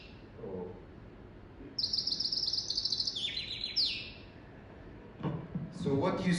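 Bird song recorded in nature rings out as high, bright chirps and descending whistled phrases, repeated in short bursts over a soft background hiss, with a voice talking briefly.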